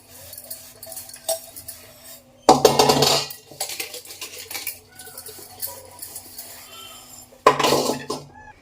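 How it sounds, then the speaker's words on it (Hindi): Dishes, pots and metal utensils clatter and clink as they are washed at home: quiet scattered taps broken by two loud bursts of banging and scraping, with no talk. "तो बर्तन तो हो गए मेरे साफ, ये देखिए बर्तन मेरे साफ हो गए हैं"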